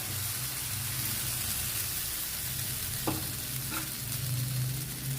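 Egg thuvayal mixture sizzles steadily in a hot pan, a continuous close frying hiss with a couple of brief clinks from a utensil partway through, no talking.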